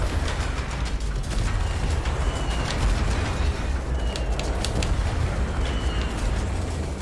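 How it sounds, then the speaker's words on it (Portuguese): Arcade aircraft shooter Cloud Cutter: a ship's automatic gunfire and explosions form a loud, dense, unbroken roar with sharp bursts popping through, and no voice over it. "Uma pessoa até se esquece que a nave está a disparar sozinha"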